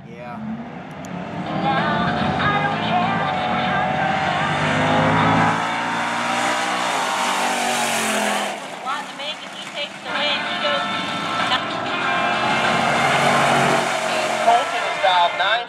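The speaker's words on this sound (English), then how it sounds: "The Oldsmobile dialed in 944 up against Cade Rich." Drag racing cars, one of them an Oldsmobile, launch and roar down the strip at Coles County Dragway, with loud sustained engine noise under continuous announcer commentary.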